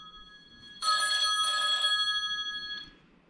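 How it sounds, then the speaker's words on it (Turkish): A telephone bell rings in bursts, a bright, buzzy electronic trill close by in a quiet room, two long rings followed by a brief third. "Telefon çalıyor."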